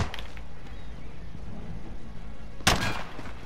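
A single sharp gunshot in the Modern Warfare video game cracks out near the end, standing briefly above a steady bed of game noise and rumble.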